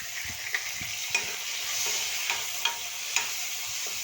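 Onion and tomato fry in a pan for a sweet potato curry, giving a steady, moderate sizzle with a few soft spoon taps and clicks scattered through it, close by and with no voices.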